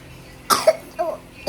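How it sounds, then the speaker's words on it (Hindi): A few short, close coughs in quick succession, a sharp first cough followed by smaller ones. "खांसी हो गया है?"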